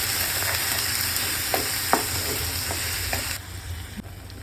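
Red chili sauce and tomato sauce being stirred together in a hot pan for restaurant-style paneer chilli, a steady sizzle with a few soft scraping clicks of the spoon, close and continuous without any voices.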